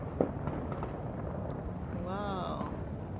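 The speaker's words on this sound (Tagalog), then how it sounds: "Fireworks then." New Year's Eve fireworks at a chalet: a sharp nearby pop, then a whistling rocket rising over a distant crackling background.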